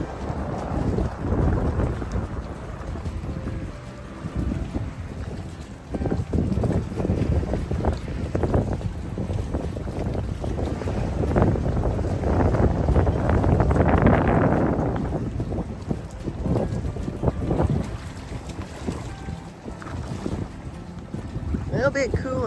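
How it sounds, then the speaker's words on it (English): Wind gusting outdoors by the water near mangroves in Key West, a steady rushing roar that rises and falls across the whole stretch, with buffeting against the microphone and no clear voices. "A little bit cool and windy out here."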